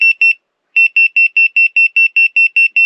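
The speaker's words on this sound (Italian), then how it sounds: "ora voglio provare a vedere se funziona l'allarme per l'acqua" A water leak sensor alarm in a camper van beeps in rapid, evenly spaced high-pitched pulses, pausing briefly after two beeps before continuing steadily, loud and close.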